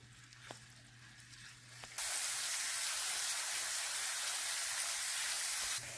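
Spices sizzling in a hot pan for an okra (bhindi) stew, a sudden loud hiss that holds steady and fills the kitchen, preceded by a quieter moment.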